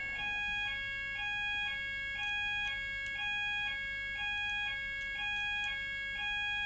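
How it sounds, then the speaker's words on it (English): A fire-style alarm goes off indoors during a live hobby stream, a steady repeating electronic tone pattern cycling in regular bursts, loud and continuous with no talking over it. "I'll just wait for the alarm to finish,"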